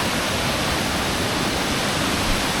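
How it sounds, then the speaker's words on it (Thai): The Krok I Dok waterfall in Thailand roars in the rain with a constant, dense rushing hiss, steady and loud with no breaks. "อันนี้น้ำตกมีฝนนะ"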